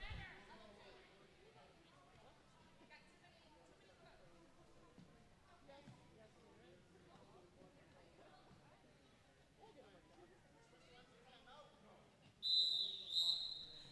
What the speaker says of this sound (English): with the long whistle, the timeout is officially over